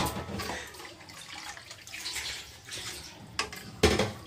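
Water is poured bit by bit into a pot of plain kadhi, a Pahadi dish made without pakoras, giving soft, uneven splashes and trickles with a couple of sharper clinks near the end.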